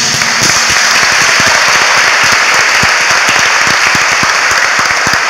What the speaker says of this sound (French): Veuillez vous lever, ma mère, pour qu'on vous applaudisse